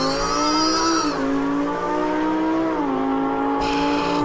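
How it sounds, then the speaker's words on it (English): A car with stock exhaust makes a manually launched 0-to-60 run, its engine roaring loud and close. The pitch climbs steadily and dips briefly at two gear shifts before pulling hard again, with no voices. "let's see this 0 to 60 run. It's stock exhaust."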